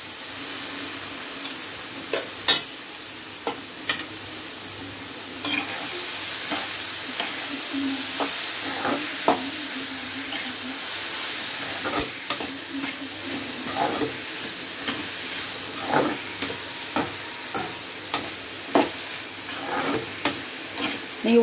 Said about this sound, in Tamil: இப்போ நம்ம வேக வச்சு வடிகட்டி வச்சிருக்கிற வாழைத்தண்டையும் சேர்த்துக்கலாம்.